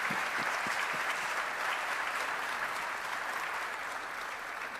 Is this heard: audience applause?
yes